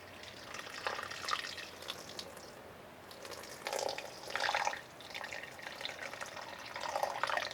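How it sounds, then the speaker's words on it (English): Hot water warmed in a teapot is poured onto a towel, giving soft trickling and splashing bursts that come and go over a low background hiss, with no talking. "pour your water"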